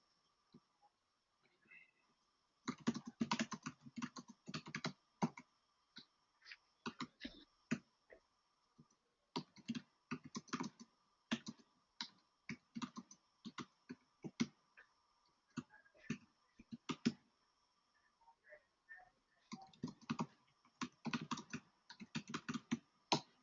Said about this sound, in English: I'm just typing something, right?